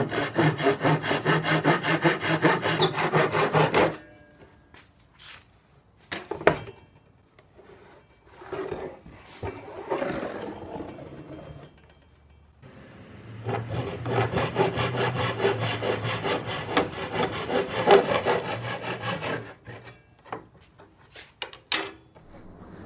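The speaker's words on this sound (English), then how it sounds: "And we'll finish up with a handsaw." Handsaw cutting wood while installing kitchen pullout shelves, with two long bursts of steady, rasping back-and-forth strokes separated by a quieter stretch of scattered clunks and handling noises.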